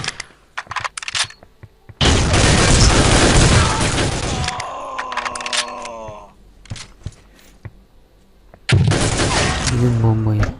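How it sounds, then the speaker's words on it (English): Bomb explosions in the first-person shooter Soldier of Fortune II: Double Helix: two loud, booming blasts with rumbling tails, the first sustained for several seconds, separated by quieter sharp cracks and a few short voice-like sounds. "Yedin bombayı."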